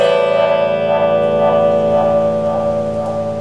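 An electric guitar, a 1970s lawsuit-era Les Paul Recorder model, plays a sustained chord through a whirlwind effects pedal, loud and close, with a swirling, pulsing wobble sweeping about twice per second and no voices.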